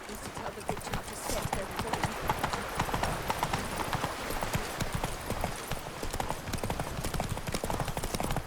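Horse hooves clip-clop in a steady, close walking rhythm in The Witcher 3: Blood and Wine, with game voices talking over the hoofbeats.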